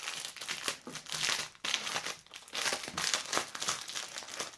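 Cardboard and plastic packaging for The Fantasy Trip tabletop game box being opened, with close, continuous crinkling and rustling in uneven bursts and a few sharp tearing sounds.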